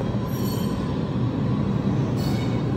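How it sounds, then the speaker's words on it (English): A New York subway train rolls through the 86th St station in a steady, loud roar of wheels and rails, with faint squealing and no break in the rumble. "Bro, there's a train that just passed."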